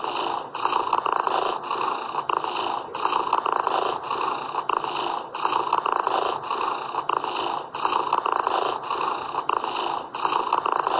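A cat being petted purrs close and fairly loud in a continuous rhythmic rumble, each breath cycle pulsing steadily throughout, with no talking.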